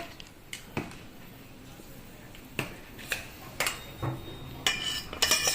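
Spoon scrapes and clinks against a bowl while red chilli powder is mixed into raw potatoes for frying, a few scattered knocks and rattles, quiet and close, with no talk.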